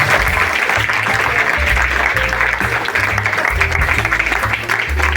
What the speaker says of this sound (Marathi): जोरदार टाळ्या होऊन जाऊ द्या एकदा